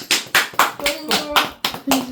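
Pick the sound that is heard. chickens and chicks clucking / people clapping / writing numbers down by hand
people clapping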